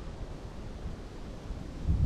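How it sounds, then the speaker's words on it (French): Wind blows steadily outdoors high up near the treetops during an October hunting outing, a low broadband rumble and rush that swells louder at the end, with no voices. "Il y a du vent."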